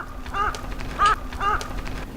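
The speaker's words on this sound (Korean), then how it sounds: "저 까마귀가. 아, 저 오잖아." Outdoors in the countryside, a crow caws three times in a slow, even series. The calls are moderately loud and near, heard alone over faint background noise.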